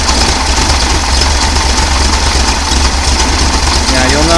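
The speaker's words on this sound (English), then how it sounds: "it didn't change the idle at all. The engine's cold, this doesn't have a choke" Cold 1800 engine fitted with a Weber carburetor and no choke, idling steadily with a continuous low rumble and faint knocking texture throughout, close and fairly loud.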